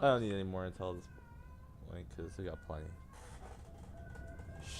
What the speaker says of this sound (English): If anyone heard that, that's my cat in the background.